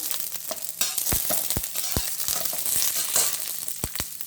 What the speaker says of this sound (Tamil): கொஞ்சம் பச்சை மிளகாய் 2-3 போடுறேன்.